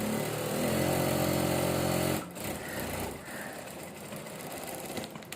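A sewing machine stitching fabric runs in a loud, steady whir, then slows and stops partway through, leaving quieter handling noises.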